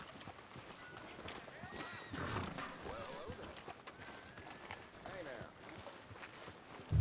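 Horse hooves clip-clop at a steady walking rhythm in Red Dead Redemption 2 on PC, moderately quiet under a voice talking over them.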